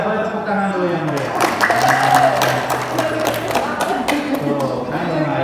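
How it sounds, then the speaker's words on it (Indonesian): An audience claps heartily, with a steady wash of applause running under talking voices at an indoor parenting and child psychology session. "boleh tepuk tangan dulu yang meriah"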